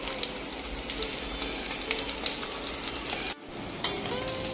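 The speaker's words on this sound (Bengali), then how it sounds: "মাছগুলো এবার কিন্তু ভাজা হয়ে গেছে," Fish frying in hot oil, a close, steady crackling sizzle with small pops and faint utensil clicks, briefly cutting out before resuming.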